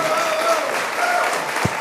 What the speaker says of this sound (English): can we stand up on our feet and give them a round of applause?